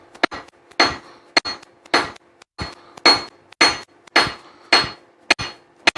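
Hammer blows forging hot steel for slot jaw tongs on an anvil, ringing metallic strikes in an uneven rhythm of heavy hits and lighter rebound taps, about a dozen in all, close and loud with no talking.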